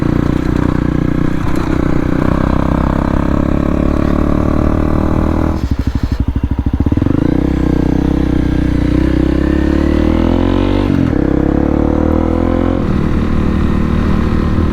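Honda CRF 250L motorcycle ridden off road on the trails of Salisbury Plain, a loud, continuous close engine drone that rises and falls with the throttle, with a brief rough rattle partway through.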